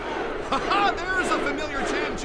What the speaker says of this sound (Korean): 팬들은 한 이름을 환호하기 시작하는데요